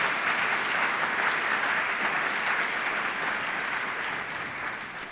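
Audience at a university law school welcoming ceremony applauding college staff, steady sustained clapping from a large crowd in a hall, easing slightly toward the end.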